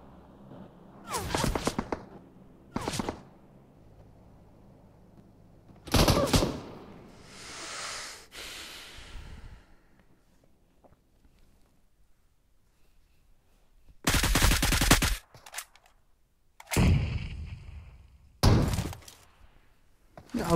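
Gunfire in the mobile battle game PUBG Mobile comes as several sharp, loud bursts separated by quiet pauses, some single cracks and some longer volleys, with a brief whooshing sound between them.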